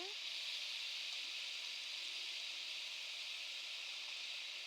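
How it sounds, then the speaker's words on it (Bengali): Spinach and chopped vegetables stir-frying with spices in a hot pan for a Bengali palong shaker ghonto, a steady, even sizzle and hiss that holds without a break. "পালং শাকগুলো দিয়ে একটু নেড়ে নেবো"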